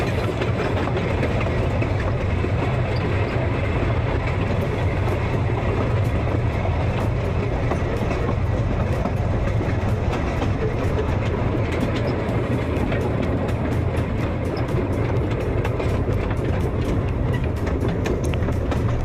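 A steam train on a heritage railway in Cornwall, UK, rolling steadily along the track, a loud continuous rumble with rhythmic clattering from the wheels throughout.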